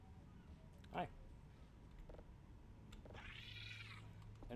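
Cats meow in the Voices of the Void video game, a faint meow near the start and a longer drawn-out one later, over quiet low background hum.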